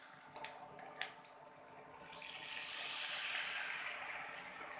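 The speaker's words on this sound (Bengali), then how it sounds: "পরিমাণ মতো পানি দিয়ে দিয়েছি।" Water is poured into a cooking pan for egg masala kaliya, a few light taps giving way to a rising, steady rushing gush that fills the pan and then eases slightly.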